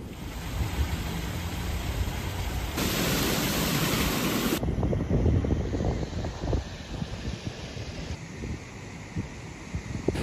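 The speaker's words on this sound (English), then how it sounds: "It's certainly very windy today." Strong wind at Malmo harbour roars steadily across the microphone as a dense, rushing noise, surging in heavier gusts partway through, with no voices heard.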